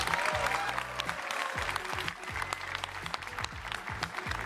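Audience applause at a live game showcase event, steady dense clapping running throughout with crowd noise and brief voice fragments over it.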